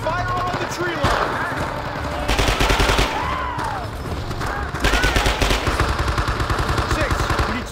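Rapid automatic-weapon bursts and rifle fire rake the tree line in the Vietnam War shooter Men of Valor: Vietnam, loud repeated volleys in several bursts, with shouted voices and game effects mixed in.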